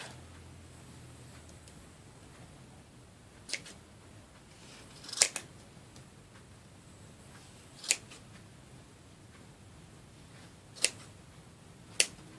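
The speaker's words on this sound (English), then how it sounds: "you're going to take your scissors" Scissors snip sharply through ribbon loops several times at uneven intervals, crisp isolated cuts close by against a quiet background.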